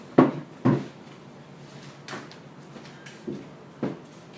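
Door opened and closed indoors to answer a caller, heard as a few sharp knocks and thuds spaced over several seconds, with quieter clunks between them and no talking.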